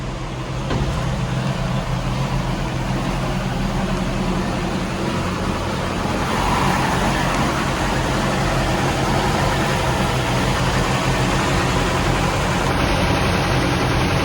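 A 1962 Ford F250 truck engine idles steadily and close by after warming up, a constant low rumble with no talking over it.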